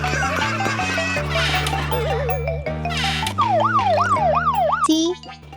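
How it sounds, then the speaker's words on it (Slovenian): A toy police car sounds its siren, loud and close, with a run of warbling and wailing electronic tones over a steady synthetic tone, cutting off abruptly near the end. "P. Policijski avto."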